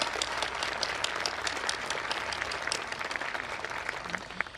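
Graduation ceremony audience at a college commencement claps for student speakers, a moderately distant, steady patter of many hands with individual sharp claps standing out, continuing evenly without speech.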